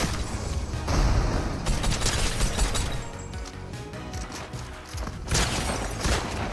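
Repeated blasts from a compact, shotgun-like weapon in Fortnite: a steady run of loud, close shots with mechanical clatter, a brief dip near five seconds, then more firing, with no talking.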